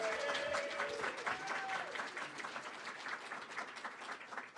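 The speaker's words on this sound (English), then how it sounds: "why don't we give a big, big round of applause to Maggie and her team." Applause and clapping from the audience at a San Francisco Entertainment Commission summit, dense and sustained for the full stretch, a steady roar of many hands with light crowd murmur mixed in.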